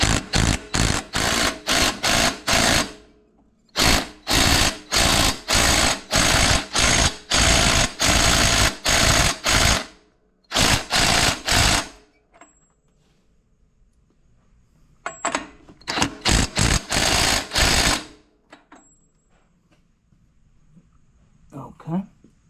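A wrench tightens the flywheel bolt on a small E180 engine, producing loud, close rapid rattling bursts in several runs separated by short pauses.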